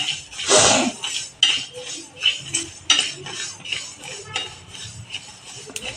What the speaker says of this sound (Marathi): मी तीळ घालणार आहे याच्यात थोडे तीळ